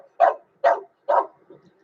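A dog gives three evenly spaced, sharp barks close by, followed by a softer short whimpering yip at the end, with silence between each bark.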